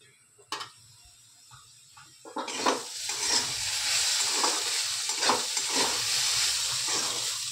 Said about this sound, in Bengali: দেখো বন্ধুরা, এটা নরম করে ভাজাটা হবে, লাল করব না, কিন্তু নরম করে ভাজাটা হবে।